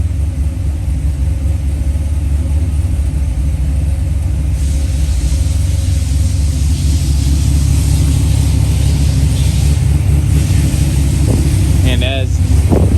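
A 550 hp Corvette driving through deep snow, its engine a steady, loud, close rumble that holds throughout, with a voice briefly audible near the end.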